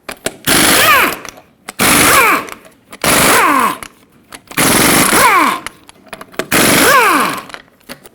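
Lug nuts, 21 mm, come off a 2011-2016 Ford F-350 wheel with a socket on a power tool: five loud, separate bursts of whirring, each about a second long with a falling pitch, split by short pauses.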